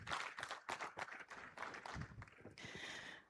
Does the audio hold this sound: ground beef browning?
no